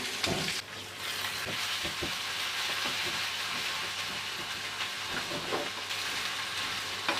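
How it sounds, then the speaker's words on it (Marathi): Crushed ginger, garlic, cumin and dried red chillies crackle and sizzle in hot oil, a steady frying hiss with occasional sharp pops and stirring sounds. "आता बघा फोडणी थोडीशी परतली"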